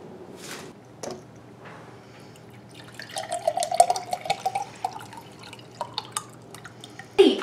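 Water is poured indoors in a quiet trickle that breaks into a run of small drips and splashes, with a brief glassy clink near the end; no one speaks.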